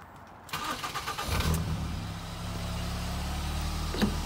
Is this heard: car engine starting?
yes